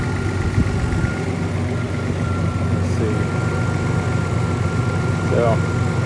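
A 1986 Toyota Supra with a five-speed, new battery, spark plugs and timing, idles smoothly at close range with a steady low rumble, while a few faint beeps and light background noise come through.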